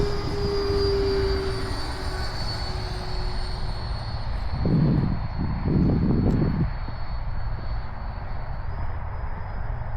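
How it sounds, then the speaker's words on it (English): An RC F-4 Phantom II electric ducted fan jet spools up on a runway with a loud, continuous throaty whine and rushing airflow, rising into a rumbling surge midway before settling back to a steady roar. "This plane has a pretty good throaty sound coming from the tubes"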